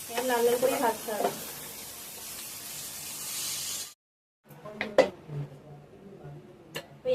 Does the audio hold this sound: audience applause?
no